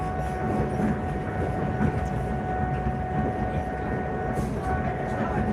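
A local passenger train running from Loznica to Belgrade in Serbia rumbles steadily from inside the carriage, a low continuous rolling drone with faint rattles.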